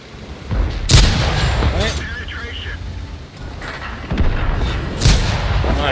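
Tank cannon firing in a tank video game, several booming shots spaced a few seconds apart over engine rumble, with someone talking between them.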